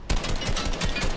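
Rapid automatic gunfire from an alien weapon in a Fortnite match, a dense burst of loud, closely spaced shots running continuously through the moment.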